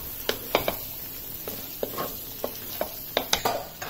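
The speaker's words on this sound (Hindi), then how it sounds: "अब हम इसको 1-2 मिनट भूनेंगे।" Kachori filling spices such as coriander powder, red chili powder and garam masala roast in oil while a spoon stirs them, giving soft scraping strokes and light sizzling in short irregular bursts, close and fairly quiet.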